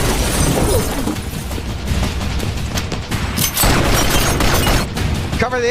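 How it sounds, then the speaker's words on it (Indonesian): Rapid gunfire and heavy booming explosions in an action movie shootout between a hitman and mafia guards, dense loud bursts with crashes and shattering throughout, under a narrator's voice. "Aksi tembak-tembakan pun terjadi."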